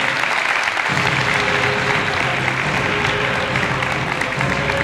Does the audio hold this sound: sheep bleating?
no